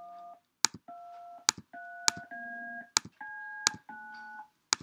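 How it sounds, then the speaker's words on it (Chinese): Telephone keypad DTMF dual-tone beeps sound one after another, each tone held briefly and separated by sharp clicks, in a clean, evenly paced sequence with no talk. "那电话通常会发出双频音来"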